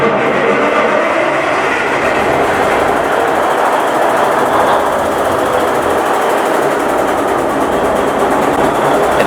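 An engine runs loud and steady with a dense, rumbling mechanical roar and no pause, close to the listener, with no talk heard over it.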